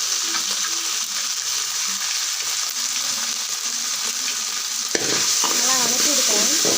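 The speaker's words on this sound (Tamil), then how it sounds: "நல்லா வதக்கி விடுக்கிறேன்" Pasta ingredients with pepper are sautéed in a pan, giving a steady close sizzle with scraping stirring, then a brief clatter before the frying continues while someone talks.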